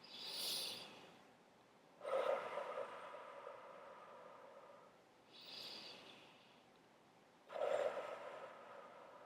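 Deep breathing during a beginner exercise routine: four slow breaths alternate between airy, hissing exhales and softer inhales, close and steady with quiet pauses between them.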